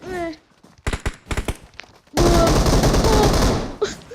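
Gunfire in the video game PUBG, a loud sustained burst of automatic shots after several short isolated shots, heard amid players' chatter.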